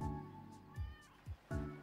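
Cartoon cat meows from the video game Summer Paws, three or four short soft calls in quick succession, quiet and clear with no talking over them.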